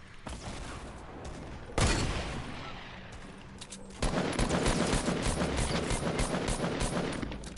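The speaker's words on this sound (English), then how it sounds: "That hunting rifle shot." A hunting rifle fires in an outdoor game setting, a sharp loud crack near the two-second mark followed by sustained dense gunfire and rumbling noise, with no talk.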